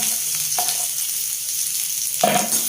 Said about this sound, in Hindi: तो तेल गरम हो चुका है, तो इसमें हम प्याज को डाल देंगे।